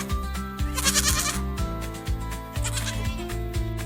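Several goats bleating in overlapping, wavering cries, one after another in a lively rhythmic run, close and clear with no talking.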